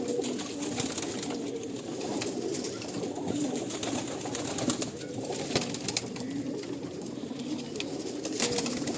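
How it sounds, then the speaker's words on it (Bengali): Many pigeons in a breeding loft split into cock and hen sections keep up a continuous dense murmur of cooing, close and steady, with scattered scuffs and clicks and no voices. "দেখুন এখানে প্রচুর পায়রা আছে"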